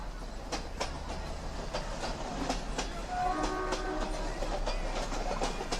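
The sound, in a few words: trains and locomotives at a railway shed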